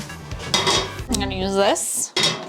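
A big skillet being pulled out and handled among pots and pans, loud close metallic clanks and scrapes with a ringing, resonant tone from the cookware, several distinct knocks over a couple of seconds, no talking.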